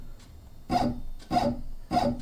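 A Shapeoko 3 XXL CNC machine jogs along its Y axis in three short, close bursts of rasping motor and gantry noise, each separated by a brief quieter gap.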